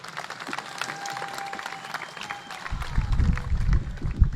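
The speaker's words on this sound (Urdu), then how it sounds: "بھائی تالیاں بجائیں گے" An audience at an MQM Pakistan party meeting bursts into applause, sparse at first and then swelling into loud, sustained clapping, with a voice speaking over the start.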